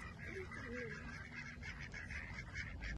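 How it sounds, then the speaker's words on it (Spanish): Ducks honk and quack repeatedly outdoors on a sunny day, their calls fairly close and steady over a constant background hum and ambient noise. "Qué lindo el pato."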